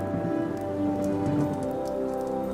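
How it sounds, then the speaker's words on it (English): Rain falls steadily on mosses in a dry landscape, an even close patter over a sustained tonal music bed. "When the rain comes"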